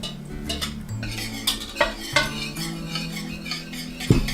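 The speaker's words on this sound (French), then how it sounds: "Ici, on brasse à la mitaine" A flour, sugar, baking soda and arrowroot mix for vegan cookies being stirred by hand in a bowl, with repeated close clinks and scrapes of a utensil in an uneven rhythm.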